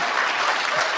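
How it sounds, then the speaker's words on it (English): Steady applause from a political event audience fills about a second, dense and continuous clapping with no voices over it. "what do the tools in the audience do? They clap and applaud"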